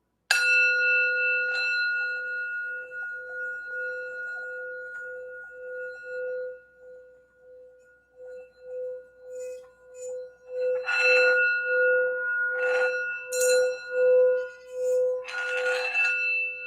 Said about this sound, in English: I just want to do the sound bowl real quick to help focus the energy here